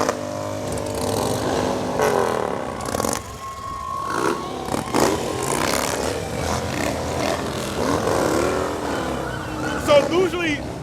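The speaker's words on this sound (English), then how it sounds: "the louder you rev up your engine, the cooler you are" A motorcycle club's engines rev and rumble through a downtown Brockton holiday parade, with loud throttle bursts and passing engine roar over crowd noise, and people talking nearby.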